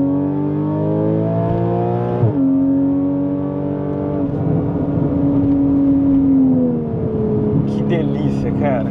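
Porsche Cayman S 3.4 with a straight exhaust revving to about 7800 rpm: a loud, sustained engine howl that drops briefly at gear changes, then climbs and settles again, close and continuous throughout.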